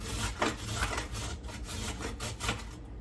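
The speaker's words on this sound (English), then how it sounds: "what you basically just want to do is you just want to grate" Carrots are grated by hand on a sharp grater for carrot cake, giving a quiet, rhythmic rasping scrape repeated in quick strokes at close range.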